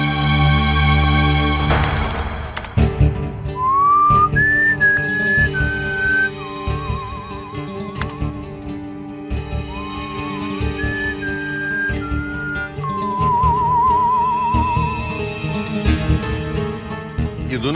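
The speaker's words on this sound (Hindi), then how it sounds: "माइक के सामने सीटी बजाएंगे" People take turns whistling into a microphone in a studio booth, producing clear sliding and warbling whistled tones over a steady background bed of music, with brief pauses between phrases.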